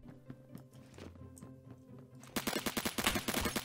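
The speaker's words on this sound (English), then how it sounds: "Explosion." A Roblox game explosion, heard as a sudden loud burst of crackling, rapid pops that starts after a quieter stretch of faint game sounds and continues to the end.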